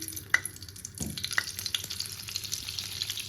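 Butter sizzling and frying in a hot pan for garlic prawns in a home kitchen, a steady crackling hiss with a few sharp clinks of a utensil against the pan, close and fairly quiet.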